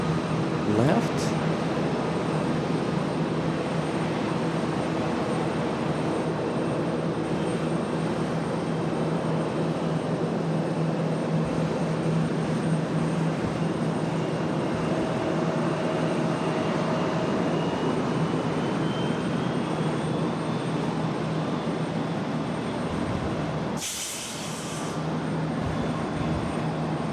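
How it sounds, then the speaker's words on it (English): An American Airlines Boeing 737 from Houston lands on runway 18 left at Charlotte airport, giving a steady distant jet rumble and whine that holds for about half a minute, briefly broken by a sharp burst near the end. "This one coming in from Houston, American Airlines at 3162. Our next arrival."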